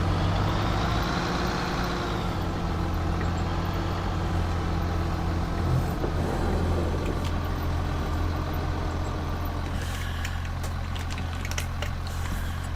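Tractor engine pulling a Bednar disc implement in Farming Simulator 22, a steady loud diesel drone with low rumble holding throughout, with slight rattling toward the end.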